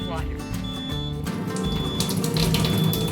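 Water from a Kangen filter streams steadily into a sink, a continuous close splashing with a thin high electronic tone running over it.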